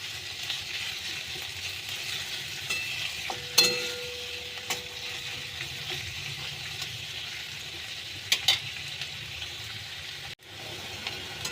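Onions fry in a pan with a steady low sizzle, broken by a few sharp clinks of a spatula against the metal and brief scraping stirs.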